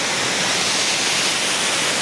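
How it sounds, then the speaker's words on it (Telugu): A waterfall in the Maredumilli forest area pours down in a steady, loud, broadband rush of falling water, continuous and close with no breaks. "ఇలా వాటర్ వస్తుంది"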